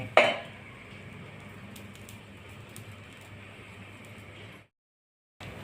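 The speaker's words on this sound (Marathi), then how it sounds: "आता आपण उलटत आहोत आणि परत झाकून ठेवणे।" A cucumber uttapam made with buttermilk-soaked batter is flipped in a pan: a sharp metallic clatter opens, then a steady low sizzle and pan noise runs for several seconds before abruptly cutting to silence.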